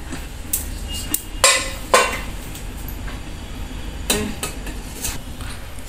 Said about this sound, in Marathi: आता आपण याच्यामध्ये ही नानकटाई ठेवायची आहे गरम करायला